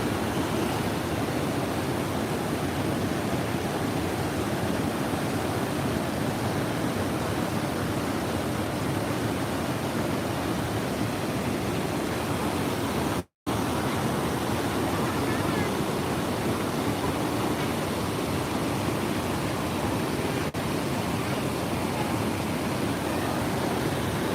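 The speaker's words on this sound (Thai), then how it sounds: "น้ำไหลแรงมากค่ะ มีลุงกินน้ำด้วยนะคะสวยๆเลย เหมือนน้ำตกเลยตอนนี้" Water rushing strongly over Krasiao Dam in Suphan Buri, Thailand, a loud, continuous roar like a waterfall that stays steady throughout with a brief dropout midway.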